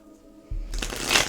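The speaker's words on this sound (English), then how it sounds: "Shuffle it up a little bit more." Tarot cards shuffled by hand during a reading, a quiet lead-in giving way to a close, dense burst of riffling and rustling that lasts about a second, with no talk over it.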